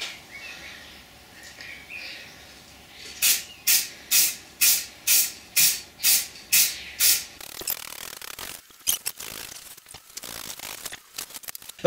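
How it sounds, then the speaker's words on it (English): Lacquer sprays from an aerosol can nozzle onto a turned lime wood ring holder in a woodturning workshop, in about ten loud, regular hissing bursts, followed by fainter handling rustles and clicks. "so I'm going to hit it with some lacquer"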